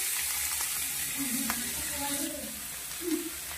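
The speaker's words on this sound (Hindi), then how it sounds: "फिर अब हम यहाँ पे कढ़ाई में डाल दिए हैं लहसुन अदरक, और अब डालेंगे इसमें बहुत सारा प्याज" Garlic, ginger and onion frying in oil in a kadai, a steady close hiss of sizzling with a few scraping stirs, and no talking over it.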